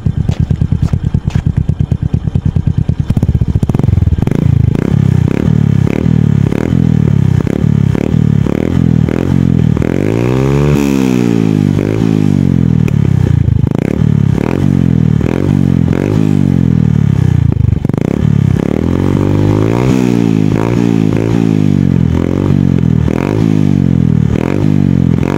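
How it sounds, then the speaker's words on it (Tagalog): A Suzuki Smash 115 motorcycle with a plug-and-play Power Pipe exhaust revs again and again in sharp bursts over a crackling, popping idle, loud and close-up. "susubukan na natin yung ating power pipe mga Lods para masubukan natin yung kanyang tunog"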